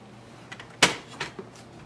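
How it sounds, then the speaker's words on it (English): A plastic access door on an HP LaserJet M209dwe printer is lifted open, giving a sharp click followed by a couple of softer rattling knocks, close and alone in a quiet room. "Now open this door, so lift it up"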